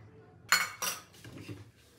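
Metal utensils scraping and clinking against a pot while home-made chicken biryani is served, two sharp close clanks followed by softer scraping and rustling.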